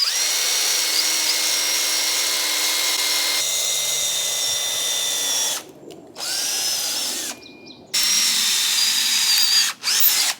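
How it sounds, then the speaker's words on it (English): A power drill bores a pilot hole into a wooden 2x2 for a DIY garden trellis, a loud steady high whine that changes pitch midway, then stops and restarts in short bursts with brief silences between. "So if you drill a pilot hole, it will prevent them from cracking."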